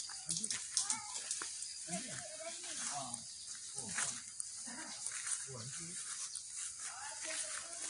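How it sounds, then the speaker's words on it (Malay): A dog whimpers in repeated high, wavering whines near tombs around Kampung Gajah in Perak, with people talking close by over steady outdoor noise. "Anjing."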